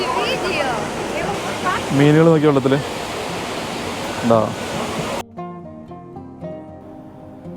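Kravica waterfall near Mostar, Bosnia, a broad cascade about 25 metres high with people bathing, roars as a steady wash beneath close talking voices, then cuts abruptly to quieter background sound.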